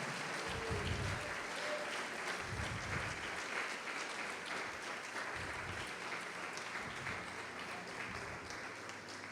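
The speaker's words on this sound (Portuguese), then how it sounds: "pode aplaudir o Senhor Jesus" A church congregation applauds during a sermon, a steady, fairly faint wash of many hands clapping that holds for the whole stretch without pause.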